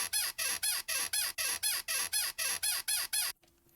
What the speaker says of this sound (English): and then we get a bad squeaky noise